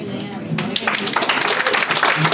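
An audience at a city council meeting bursts into dense clapping that quickly follows someone speaking, and his voice continues over the applause.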